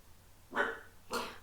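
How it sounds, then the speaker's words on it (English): A dog barks twice in the background of an indoor setting, two sharp, fairly distant yaps about half a second apart with quiet in between. "he's barking in the background because I think he can hear his name quite a lot"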